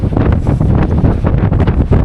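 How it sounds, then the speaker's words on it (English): Strong coastal wind in Ireland batters the microphone in loud, continuous gusts, a heavy low rumble with no voices heard. "it's just too windy."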